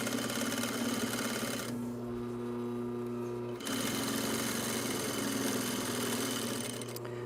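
A sewing machine stitches a shoulder bag seam with a 1/2 inch seam allowance, running as a steady close mechanical whir that pauses briefly in the middle and then resumes, with no talk.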